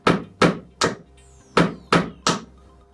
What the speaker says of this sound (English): Knock the outside pins in first, because these are easier to get to